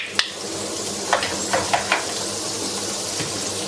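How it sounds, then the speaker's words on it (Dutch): Hamburgers frying in butter in a pan make a steady, close sizzle, with a few brief clatters and scrapes from stirring or turning. "Nou, ik ga de hamburgers bakken."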